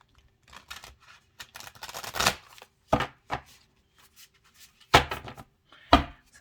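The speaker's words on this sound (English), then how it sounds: "Sometimes these bigger cards are very difficult to shuffle." A large Spiral Oracle card deck is shuffled by hand in separate bursts: soft riffling and tapping with several sharper, louder snaps spaced apart, close and alone.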